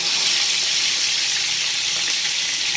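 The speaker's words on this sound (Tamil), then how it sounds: "இப்போ வந்து நம்ம மூணு மீனாக போட்டு பொரிப்போம்." Three whole fish frying in hot oil in a wide pan, a steady dense hiss and crackle filling the clip, close and without speech.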